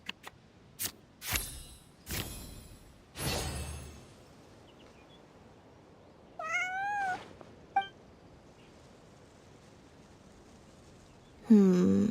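A cat meows in the Genshin Impact game. A few short, rising meows stand out after several sharp clicks and soft breathy sounds, and a louder meow-like call comes near the end. The cat is close and clear against a quiet background.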